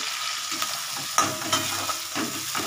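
Garlic, onion and potatoes frying in a pan: close, steady sizzling punctuated by sharp scrapes and clinks of stirring.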